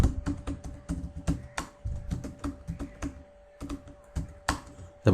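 Fingers type on a computer keyboard at close range, a quick uneven run of crisp key clicks with short pauses between bursts and no voices.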